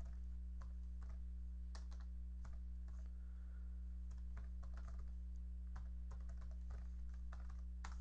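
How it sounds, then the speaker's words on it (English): Fingers tap out values on a computer keyboard in quick irregular bursts of clicks, close but quiet, over a steady low electrical hum. "we'll just type in some values here"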